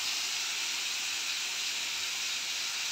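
Green chillies and tomato sizzle steadily in a hot pan, a continuous bright hiss with no pauses, close and fairly loud, no voices over it.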